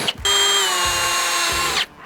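Power drill with a 5/16 bit boring a hole in a 2023+ Chevrolet Colorado or GMC Canyon bumper: a loud, steady high whine lasting about a second and a half, starting and stopping abruptly.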